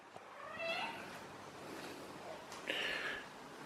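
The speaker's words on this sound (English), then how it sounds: "Sounds like hungry meow to me." A cat meows twice, a drawn-out call early on and another around the three-second mark, close by over quiet room noise.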